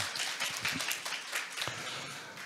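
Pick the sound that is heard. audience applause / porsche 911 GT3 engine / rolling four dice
audience applause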